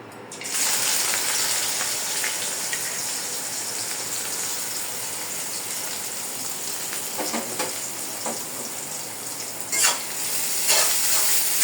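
Chopped onion and chillies frying in extra oil for jute leaf (pat shak), a continuous bright sizzle with a few louder stirring scrapes near the end, close and alone.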